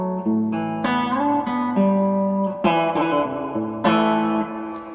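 Electric guitar, a Reverend Rick Vito Soulshaker, played through its tone control turned to the 68 setting for a slightly grindier mid-range: distorted chords and single notes struck several times, each ringing out with sustain, loud and close.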